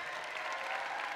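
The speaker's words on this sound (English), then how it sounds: "Let's give them a big round of applause." A brief stretch of steady crowd applause at a student festival, continuous clapping without pauses or talk.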